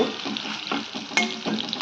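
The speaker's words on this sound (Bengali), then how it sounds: "এই যে পনিরটা ভেজে নিচ্ছি, বিরিয়ানি করব।" Paneer for a biryani fries in a pan, a short burst of close crackling sizzle with a few quick stirring scrapes, no voices.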